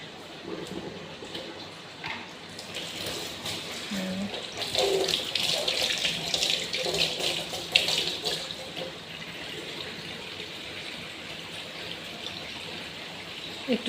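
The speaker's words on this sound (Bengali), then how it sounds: "তো ভাত রান্না শেষ, পানি ঝরিয়ে নিলাম।" Water drains off cooked basmati rice in a sink, a steady rushing pour that swells in the middle and then settles into a lighter trickle.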